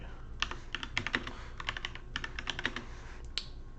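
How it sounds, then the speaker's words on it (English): Close, quick typing on a computer keyboard, with clusters of crisp key clicks in irregular bursts and short pauses between. No voice is heard. "Ooh, cannot type today."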